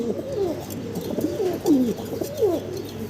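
Fancy pigeons coo close by in soft, repeated throaty calls, about four or five rolling coos spaced through a quiet background.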